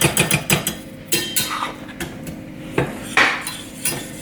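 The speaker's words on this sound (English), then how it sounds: "spoon and mix it up" A spoon clinks and scrapes in a bowl as steak seasoning of salt and pepper is stirred into salted butter, a run of quick metallic taps followed by a few sharper knocks, close and fairly loud with no talking.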